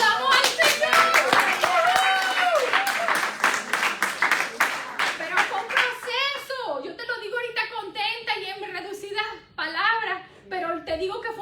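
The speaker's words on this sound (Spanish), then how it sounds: "¡Que aplaudamos al Señor!" A church congregation claps in rhythmic unison for several seconds, loud and close, then fades into scattered claps and overlapping voices and cheers.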